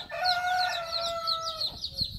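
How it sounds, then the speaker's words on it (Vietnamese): Rooster crowing and chickens clucking at a farm on Phu Quoc island, a steady run of bird calls with a long crow near and clear, no talk over it. "Này nuôi gà đấy nữa quý vị, gà rất là nhiều."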